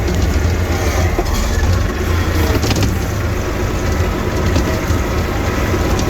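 A snowplow vehicle's engine runs at low throttle in a loud, steady rumble with constant broadband noise and no pauses, close by, with no talking over it.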